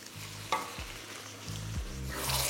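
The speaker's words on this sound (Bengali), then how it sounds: "এবার আমি এখানে দিয়ে দিচ্ছি টমেটো বাটা।" Tomato paste made from four large fresh tomatoes, about 300 grams, goes into a hot frying pan and sizzles steadily, with a few sharp stirring scrapes and the frying growing brighter toward the end.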